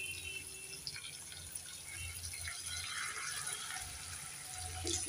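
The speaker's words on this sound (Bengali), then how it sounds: "এবার আমি দিয়ে দেব জল।" Water is poured into a pan of mustard curry with small mourola fish, a faint, soft splashing and trickling heard alone at low volume.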